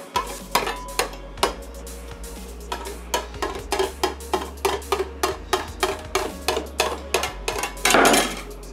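Sharp, regular knocks and scrapes of a pastry knife cutting away excess vegan pie crust against a pie dish, a steady series of close taps with a brief rougher burst near the end, no talking.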